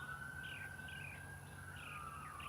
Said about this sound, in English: And there's the bird.